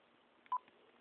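Brief telephone DTMF dialing tones on a dial-up modem line from an HP laptop's internal 56k modem, a couple of quick faint beeps over low line hiss.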